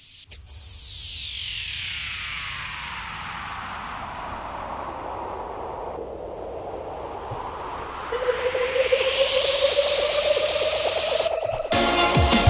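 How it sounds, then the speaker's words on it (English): A whooshing noise effect sweeps down and then rises steadily in pitch, building tension before cutting off abruptly. "uplifter, kind of like a short transition sound."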